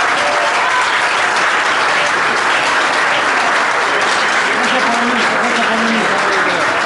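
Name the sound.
audience applause for Marcelo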